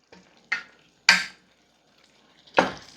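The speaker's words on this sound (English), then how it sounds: "So we're gonna stir that parsley in" A utensil stirs parsley into a pan of Greek shrimp with melting feta, giving three separate sharp scraping clinks against the pan, spaced about a second apart, with faint background between them.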